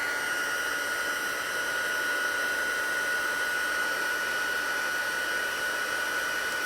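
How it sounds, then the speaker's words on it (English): An embossing heat tool blows steadily for several seconds, a loud constant whooshing hiss with a fixed whine running through it, close to the mic and with no pauses or voices over it. "we are going to turn on the heat tool here, so this is going to make a bunch of noise"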